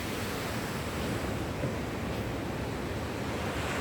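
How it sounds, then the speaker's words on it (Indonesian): Sea waves wash beneath a church built on posts over the sea in South Nias, a steady, dense rush of surf and wind with no distinct breaks and no voices. "Tapi hari ini ombak tidak terlalu tinggi."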